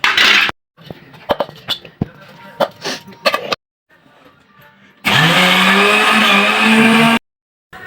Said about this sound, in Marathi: आता आपल्याला तो सर्व एकत्र करून मिक्सरला वाटून घ्यायचा आहे